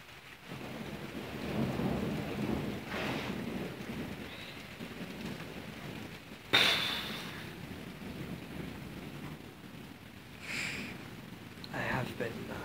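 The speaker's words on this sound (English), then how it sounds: "it's kind of hard when it's like pouring rain" Pouring rain hisses steadily and evenly, broken by a sudden sharp crack of thunder midway through and a few softer rumbles, with faint voices underneath.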